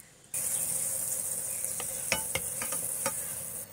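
Butter sizzling in a hot kadai for street-style pav bhaji, a bright steady close sizzle that starts abruptly, with a few sharp crackles and pops.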